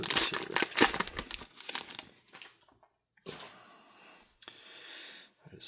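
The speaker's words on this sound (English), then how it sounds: "I'm sleeving most of these. We'll put them in there." Trading cards from a 2024 Mosaic football value box being slid into plastic sleeves, heard as close, irregular crinkling and rustling bursts with short quiet gaps.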